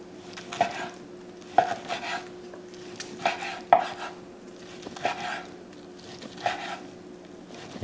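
A knife slices through cooked pork tenderloin on a board, giving about eight sharp, evenly spaced chops with soft scraping between them, close and clear with no talk.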